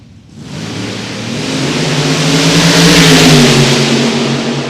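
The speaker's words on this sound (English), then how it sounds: "The supercharged big block for Jared Bradshaw." A supercharged big block hot rod dragster engine roars up from near silence into a loud, sustained rev that holds at full throttle, close and overwhelming, with no voices.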